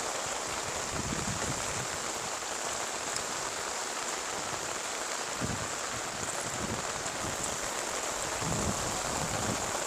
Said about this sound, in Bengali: চতুর্দিকে খালি বৃষ্টি আর বৃষ্টি